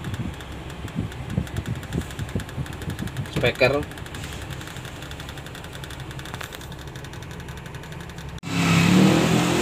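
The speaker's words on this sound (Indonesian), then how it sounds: "Kalau diesel zaman dulu memang mesinnya agak berisik," Old diesel engine of a 1981 Toyota FJ40 Hardtop runs with a steady, somewhat noisy clatter, someone talking over it throughout, then the engine noise swells louder near the end.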